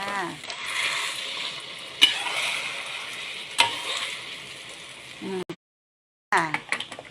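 Eggs sizzle loudly and continuously in a frying pan, with tomatoes mentioned alongside. Sharp spatula clicks punctuate the hiss, which cuts out briefly near the end before resuming with some talk over it.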